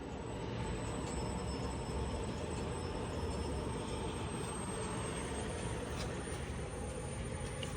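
A fuel pump nozzle fills the fuel tank of a Chevrolet Avalanche truck with a steady, unbroken rushing flow that holds a constant low level throughout.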